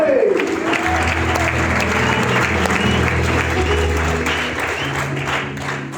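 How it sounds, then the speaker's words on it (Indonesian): A church congregation claps together during a sermon, a dense, steady burst of applause with a low musical hum underneath, easing slightly toward the end. "Mana ini tepuk tangan"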